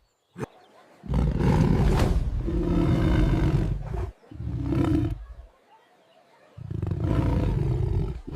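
Several loud, deep lion roars at a zoo in long bursts separated by short pauses, close and powerful, with no talking.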